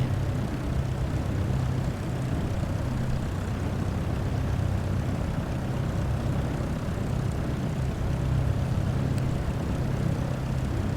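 A steady propeller aircraft engine droning at low power while taxiing slowly in Microsoft Flight Simulator 2024, an even, continuous hum throughout with no talk.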